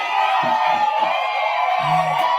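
Crowd cheers and whoops loudly throughout, with a few voices shouting and yelling over the sustained roar of an audience.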